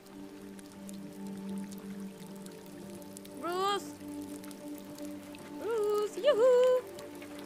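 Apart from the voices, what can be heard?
rain in video game Detroit Become Human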